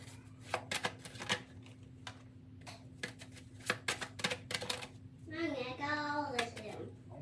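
Tarot cards pulled and handled by hand, a run of sharp slaps and flicks at uneven intervals, close and fairly quiet, with a brief burst of speech near the end.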